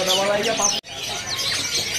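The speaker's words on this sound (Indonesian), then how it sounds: "Di sini juga ada burung pleci." Pleci white-eye birds chirp at a bird market, high thin tweets close by, mixed with people talking nearby.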